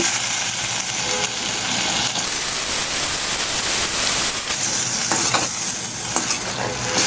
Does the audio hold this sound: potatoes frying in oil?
yes